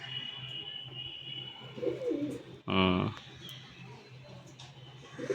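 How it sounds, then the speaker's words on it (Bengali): A green-spotted Giribaz pigeon gives one short, loud coo in the middle of steady background noise, with a voice talking nearby just before it. "এটা একটা গেরেবাজ পায়রা দেখাচ্ছি, সবুজ ছাপকা"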